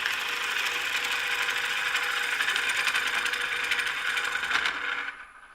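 A bowl gouge shaving wood on a turning lathe, a steady close whirring scrape with a fine rapid chatter that holds evenly, then cuts off and fades at the end.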